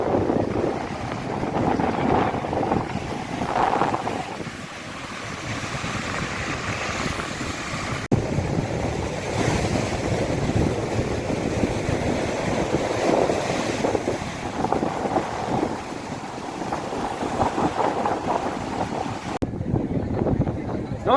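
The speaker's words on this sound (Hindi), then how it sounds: "ये देखिए सागर की लहरें, अथाह लहरें आप देख सकते हैं।" Sea waves at Rameshwaram near Ram Setu, a continuous loud wash of surf mixed with heavy wind buffeting the microphone throughout, with someone talking over it at times.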